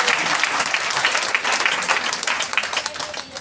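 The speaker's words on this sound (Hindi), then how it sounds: "उनके लिए एक जोरदार ताली लगा दीजिए।" An audience at a seminar talk breaks into loud, sustained applause, many hands clapping in a dense patter that holds steady and then thins out briefly at the end.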